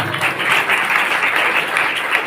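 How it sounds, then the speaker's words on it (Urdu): A church congregation claps loudly and densely during a worship service, a continuous wash of many hands applauding close and full for a couple of seconds. "خداوند کے جلال کے لیے زوردار تالیاں بجائیں."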